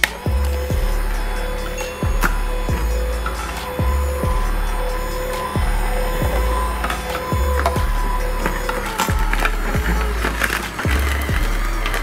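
Ecohome slow juicer running while juicing carrots, a loud, close motor hum with a repeating rhythmic thump roughly every second, continuous throughout.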